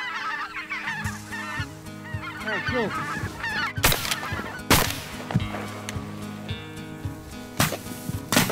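Geese honk repeatedly in a busy, overlapping flock chorus during a waterfowl hunt, calls rising and falling near and far, with several sharp loud bursts that may be gunshots cutting through.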